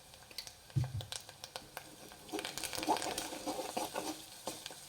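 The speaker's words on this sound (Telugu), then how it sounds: "ఇది కూడా కొంచెం మంచిగా ఫ్రై కావాలి" Ginger garlic paste sizzles in a pan while it is stirred for a dried prawn curry, a steady fry with scraping stir clicks, growing busier after a few seconds, close and fairly quiet with no talk.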